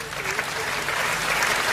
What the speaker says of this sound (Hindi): एक बार इनके लिए तालियां बजा दो